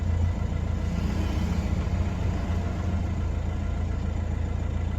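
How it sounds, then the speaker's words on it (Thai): A Nissan Navara NP300 pickup idles steadily after a start, its engine rumbling in a low, even drone that stays close and constant throughout, with no voices present. "พอสตาร์ทเครื่องไปสักพักนะครับ พอเครื่องเริ่มร้อนนะครับ รอบเครื่องก็จะสวิงลงมาอยู่ที่รอบปกตินะครับ"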